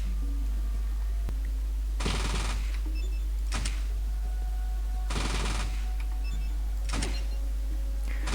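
Fallout 2 Remake video game gunfire comes in two bursts of sharp, loud shots aimed at a head, with single later reports after each burst. A steady low hum underlies them.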